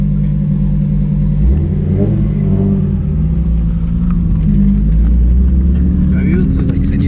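A single-turbo Nissan 350Z with the HR engine accelerates hard through a second-gear pull, its loud engine note rising steadily with a rumbling exhaust, as voices speak over it.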